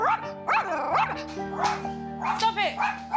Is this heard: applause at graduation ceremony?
no